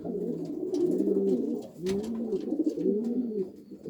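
Homing pigeons coo in a close, repeated rolling rhythm, several soft throaty calls overlapping one another with no voices present.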